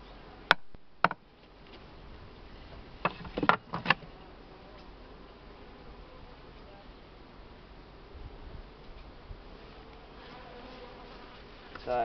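Honey bees hum in a low, continuous buzz around an opened hive while a swarmed colony is split, with occasional sharp knocks and clatters from hive parts and faint voices nearby.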